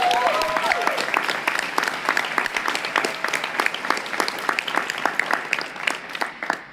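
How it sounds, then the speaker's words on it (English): Audience applause at a keynote talk, clapping for an honored organizer; a lively burst of many hands with distinct individual claps standing out, gradually thinning toward the end. "can we give another round of applause for Shannon?"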